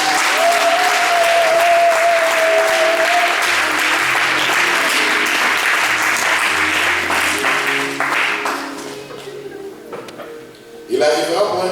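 Church congregation at a French-language seminar on consecration breaks into loud sustained applause and cheering, a dense crowd roar that tapers off toward the end.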